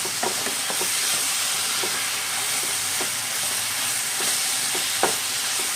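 Payasam is stirred in a hot pan, giving a constant hissing bubble with soft, evenly spaced scrapes and taps of the spoon across the bottom, close by, without voices.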